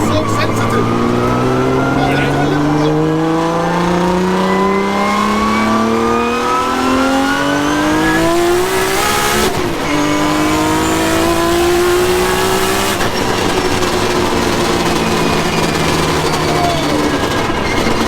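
A 1JZ engine revs hard toward high RPM, its loud rising tone climbing repeatedly in sustained pulls with brief drops between, very close and dominant, while a voice talks over it.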